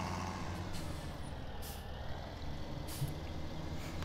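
Tractor engine in Farming Simulator 17, a 147-horsepower machine with a front three-point hitch, giving a steady low droning rumble with brief hissing bursts, moderately loud and continuous with no talk.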